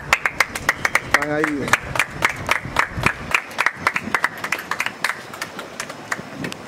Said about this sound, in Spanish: Que aplaudan todos,